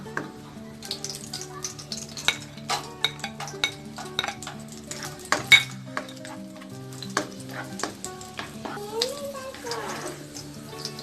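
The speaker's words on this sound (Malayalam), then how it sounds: "എന്നിട്ട് നമുക്ക് ആവശ്യമുള്ളത്ര അണ്ടിപ്പരിപ്പും മുന്തിരിയും വറുത്തെടുക്കണം" Cashews and raisins frying in ghee in a pan, with a soft continuous sizzle broken by repeated sharp clinks and scrapes of a spoon stirring against the metal, close and fairly quiet.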